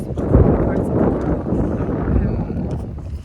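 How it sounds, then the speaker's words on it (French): Outdoor wind buffeting a microphone, a loud rumbling low roar that rises and falls continuously while someone talks over it. "j'espère qu'on m'entend quand même avec le vent là."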